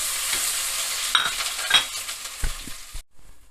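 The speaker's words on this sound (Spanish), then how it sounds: "Sofreír el pimiento también" Peppers frying in a pan make a steady, bright sizzle, with occasional stirring clicks and scrapes, and the sound cuts off abruptly near the end.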